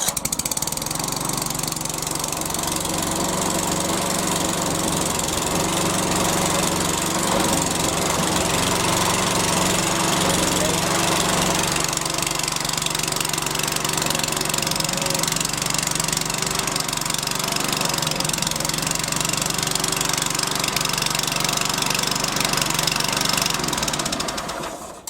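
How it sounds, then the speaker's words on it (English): A HYM430SPER lawn mower engine running steadily and close by, a loud continuous drone with a slight change in pitch partway through, with no talking. "That's how to start your lawnmower."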